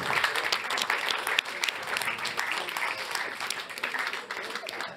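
An audience applauds award winners at an insurance talent ceremony, with sustained clapping throughout and a voice talking over it.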